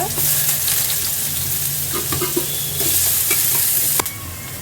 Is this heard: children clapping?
no